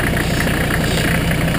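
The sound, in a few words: Mercedes 300TD diesel engine idling, veggie oil conversion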